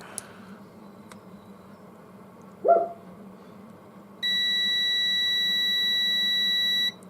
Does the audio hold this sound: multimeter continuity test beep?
yes